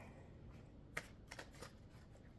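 Tarot cards shuffled by hand in a quiet room during a reading, a few soft riffling bursts and one sharper snap of the deck, faint and close with no talking.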